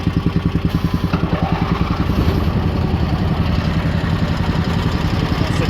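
A Craftsman GT18 lawn tractor engine runs at a steady idle while warming up after choke is reduced, giving a loud, close, rhythmic chugging clatter that continues without a break.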